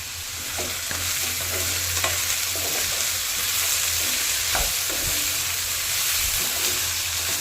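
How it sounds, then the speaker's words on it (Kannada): Continuous loud sizzling of bottle gourd frying in a pan, with intermittent stirring scrapes and clinks throughout, close up and without speech. "ಸೋರೆಕಾಯಿ ಚೆನ್ನಾಗಿ ಹುರಿದಾವ ನೋಡ್ರಿ"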